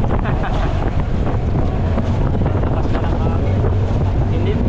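Steady roaring wind buffets the microphone while waves wash against a moving boat, a constant loud rush with someone talking underneath.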